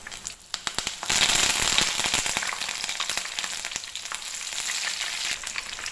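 Curry leaves crackle and spit as they hit hot oil in a pan of frying chicken, with a loud burst of sharp popping that settles into a steady close sizzle, no voices.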